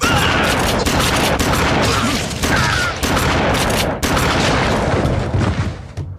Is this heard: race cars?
no